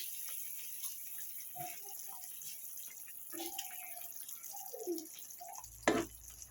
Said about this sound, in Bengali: এখন আমি এর মধ্যে দিয়ে দেবো মাছ।